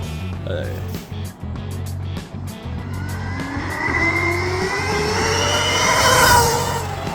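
A Stark Varg electric dirt bike rides fast, its motor whine climbing in pitch as it accelerates and passes, with tyre and dirt noise, while a voice talks nearby over it.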